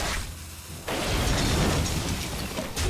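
A ship's cannon card enters play in the Hearthstone video game, a sudden booming blast with mechanical clatter that jumps in loudly and sustains as a dense rumbling roar.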